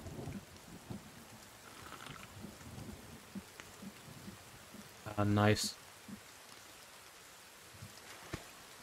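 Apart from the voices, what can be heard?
rain and thunder in video game The Forest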